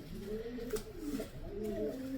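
A racing pigeon with white flight feathers and a leg ring band coos in soft, repeated low throaty phrases, close by and steady, with no talking over it.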